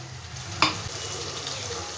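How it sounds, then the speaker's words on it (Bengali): Spice-washing water is poured into fried spice paste in a pan, giving a sudden splash and hiss followed by a steady low sizzle and bubbling that carries on close by, with no talking. "এবার মশলা করে যে জলটা ছিল, ধোয়া জলটা, ওই জলটা আমি পুরো দিয়ে দিলাম"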